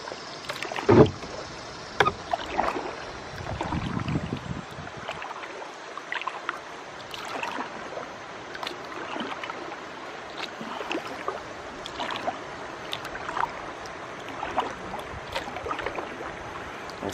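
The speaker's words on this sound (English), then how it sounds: "Looks like we got some rapids going underneath it too." Kayak paddling on a river in Swatara State Park toward rapids under a footbridge: rhythmic paddle splashes and dips repeat close by over a continuous wash of flowing water, with no talking.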